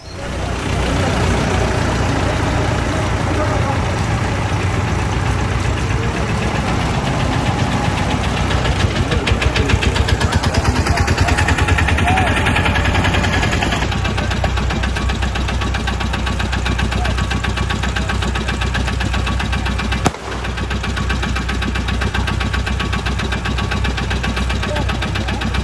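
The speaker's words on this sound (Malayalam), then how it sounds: "ട്രാക്ടർ പോകുന്ന ഒരു രംഗമാണ് ഈ കാണുന്നത്." A tractor engine runs in a steady, loud, close drone that continues unbroken, with a single sharp click near the end.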